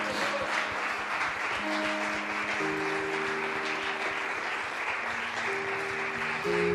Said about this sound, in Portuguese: Libere uma salva de palmas